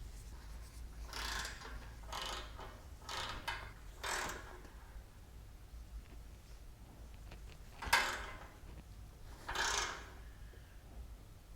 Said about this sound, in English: Now these nuts need to be torqued to 17 foot-pounds and they need to be torqued in stages.